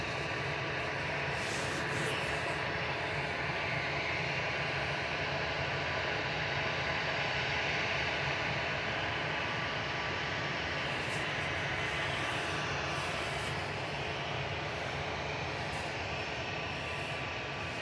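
Ethiopian Airlines flight ET80Y, an Airbus A350-900 from Addis Ababa via Geneva, approaches to land at Manchester Airport: a steady, broadband jet roar holds at even loudness throughout, with a soft hiss over it and no voices.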